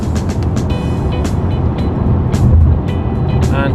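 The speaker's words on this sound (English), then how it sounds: "So we're in Sport Plus mode now, 4th gear, and we'll just power on here" A 2017 Mercedes-Benz E220d Estate (S213) diesel pulls hard in Sport Plus mode in fourth gear, giving a loud, steady, broad engine and road rumble that holds without a break.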